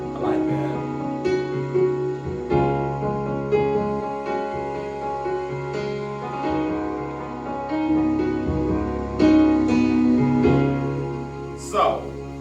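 Electronic piano tones play a slow sequence of chords and notes, with a short bright chirp near the end. No voices.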